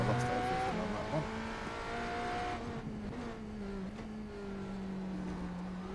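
A hybrid race car on the Daytona Road Course in a racing simulator, its engine tone rising and falling through gear changes with a steady whine and faint tire noise, fairly quiet and without talk.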